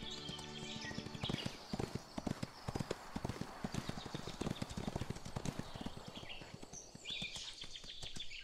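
Horse hooves clip-clop steadily through the Ostwind riding video game, a close, regular rhythm with a brief whinny-like flourish near the start and soft background game ambience.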